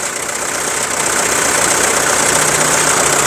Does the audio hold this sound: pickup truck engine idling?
yes